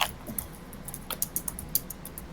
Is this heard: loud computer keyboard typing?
yes